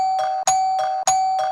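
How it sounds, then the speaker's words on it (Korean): An electronic doorbell in an audio drama chimes insistently, three quick ding-dong rings in a row, loud and close with no talking. "초인종이 요란하게 울렸어요."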